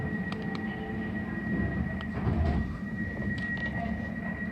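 A TfL Rail train near Taplow station on the line from Paddington to Reading, running as a steady low rumble with a constant high whine throughout and a few faint clicks.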